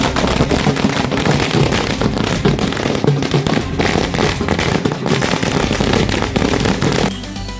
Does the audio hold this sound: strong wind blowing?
no